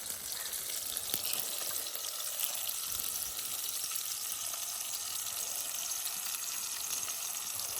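Tomato, ginger garlic paste, green chilli and coriander fry in a pot for Ramadan nombu kanji, with a continuous, moderately loud sizzle and crackle and no talking.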